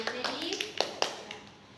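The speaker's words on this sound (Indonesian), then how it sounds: "Tepuk tangan untuk Rahmi" Brief scattered clapping from a classroom of students applauding a classmate named Rahmi, a handful of uneven claps over a couple of seconds, with children's voices talking over them.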